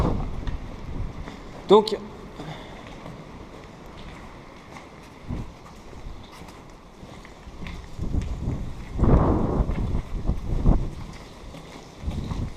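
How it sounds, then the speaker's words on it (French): Strong gusting wind buffets the microphone at an old fort in Belgium, rumbling in uneven bursts that swell loudest toward the end, with a person talking briefly over it. "Ouh, le vent il souffle là."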